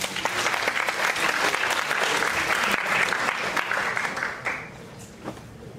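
An audience at a developer conference talk applauds a speaker's introduction, a loud, continuous crowd clapping lasting about four seconds before dropping off quickly to a quieter room.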